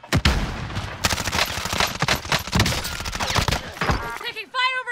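Rapid bursts of automatic gunfire from the Call of Duty: Modern Warfare video game crackle loudly and continuously, with a few sharper single shots standing out and an electronic tone at the end.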